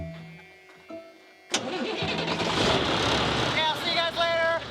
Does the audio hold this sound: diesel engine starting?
yes